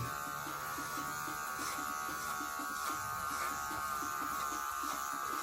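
Electric hair clippers fitted with a number 3 guard buzz steadily and close up during a self-haircut on the side of the head, a constant motor hum with faint rhythmic ticks as the blades pass through hair.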